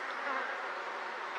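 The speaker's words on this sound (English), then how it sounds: "the old bees are out foraging, so they're pretty much out of the way. Yes, some of them come back" Honey bees hum around an open top bar hive left untouched for three years, opened for a spring checkup. The drone is a steady, dense buzz, close and unbroken.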